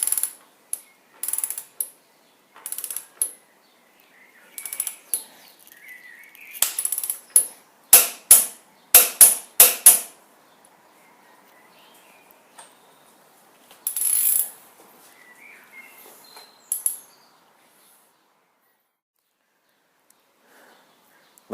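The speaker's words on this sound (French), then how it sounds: "Nous allons maintenant serrer l'axe avec un couple de serrage de 63 Nm." A torque wrench with a 30 mm socket tightens a motorcycle front wheel axle to 63 Nm. Sharp ratchet clicks come in scattered bursts, with a rapid run of loud clicks in the middle, then long quiet gaps.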